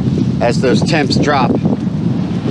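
Wind gusts roar steadily across the microphone on a trail near a river joining the Appalachian Trail, a loud broadband rush that runs the whole time beneath a person talking.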